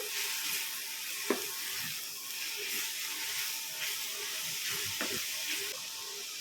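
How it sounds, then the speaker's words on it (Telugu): Amaranth leaf curry sizzles and simmers steadily in a pan, a soft continuous hiss with occasional light clinks and scrapes of stirring, fairly quiet and close. "కాసేపు మూత పెట్టి ఉడికించుకుందాం, కలుపుకుందాం."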